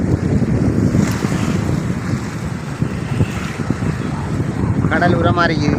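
Sea waves surging into a creek beside the Kottaikallaru bridge, with a steady rush of water and strong wind buffeting the microphone throughout, and a boat nearby.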